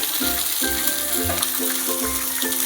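Fish fries in a pan with a continuous, dense sizzle, close and even throughout, with faint tonal background sounds layered underneath.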